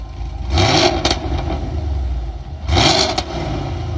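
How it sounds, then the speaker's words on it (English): Cammed Camaro V8 with a new 3-inch Varex active exhaust, valves open, blipped twice: two sharp, loud rev bursts with a raspy bark, separated by a lumpy, choppy idle. "Now we're gonna get some revs with the valves open."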